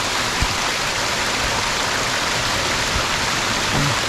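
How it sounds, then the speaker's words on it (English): An unnamed seasonal waterfall in a stream in the Savage Gulf section of South Cumberland State Park, heard as a steady, full rushing wash of falling water, continuous and fairly close, with no voices. "Some kind of a waterfall there."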